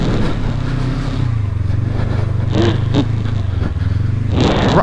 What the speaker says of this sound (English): Ride my bike back up.